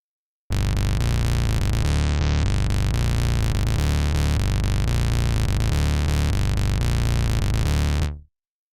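Harsh, loud static noise is shaped by the Soundspear Superfilter plugin acting as an automated cutoff filter, starting abruptly, holding steady with a slight dip in the high end midway, then cutting off sharply.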